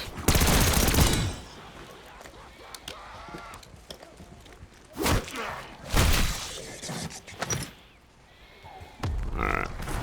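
Gunfire against zombies in Call of Duty Zombies, aimed at heads: several loud, sharp bursts of shots separated by quieter gaps, with game noises between them.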